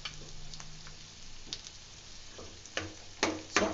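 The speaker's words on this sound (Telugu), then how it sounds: "సో ఆనియన్ బాగా ఫ్రై అవ్వాలి" Onions fry in a pan for a sun-dried mutton fry, giving a soft, quiet sizzle broken by a few sharper stirring scrapes and crackles toward the end.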